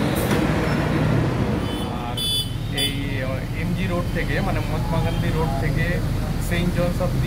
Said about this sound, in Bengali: এই বাসগুলোই হচ্ছে G3 কিংবা G4 বাস